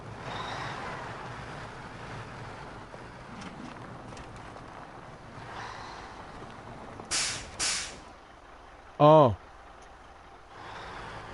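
Truck air brakes on a Ford truck in the Snowrunner video game, two sharp hissing bursts in a row followed by a louder whooshing release, over low engine rumble and a single brief spoken exclamation.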